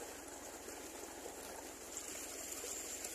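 Water from an old tubewell driven by an MF-240 tractor with a 7-inch delivery pipe flows steadily into a ripening wheat field, a faint, even outdoor rush with a soft trickling texture.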